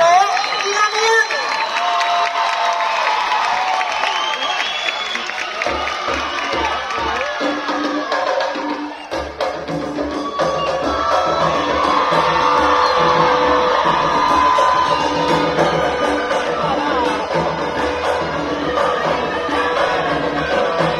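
A crowd at a Cosme y Damián celebration cheers, whoops and shouts loudly to welcome the Sociedad de Negro performers, a dense sustained roar of many voices with a brief dip midway before swelling again.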